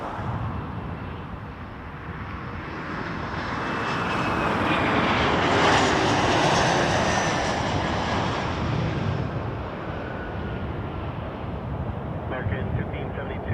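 A fixed-wing airliner takes off at Toronto Pearson Airport, its engines building to a loud, broad roar near the middle before fading, with air traffic radio talk faintly audible in the background.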